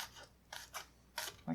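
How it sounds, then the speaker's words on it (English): Knife chopping onion on a cutting board, four or five separate crisp cuts at uneven intervals, close and fairly quiet. "cut it into like lengthwise pieces and then just chop across."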